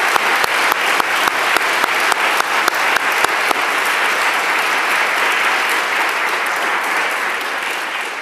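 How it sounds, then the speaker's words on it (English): An audience at a city's state of the address gives a loud, sustained round of applause, dense clapping with crisp individual claps early on that slowly thins and fades. "Let's give them all a round of applause"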